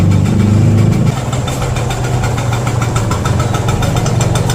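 A motorcycle with a stripped carburetor jet idles at around 2,000 rpm while warming up, its engine thrumming close and steady, settling slightly lower after the first second, with no talking.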